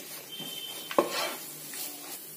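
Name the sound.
frying and stirring in a pan for curry leaves rice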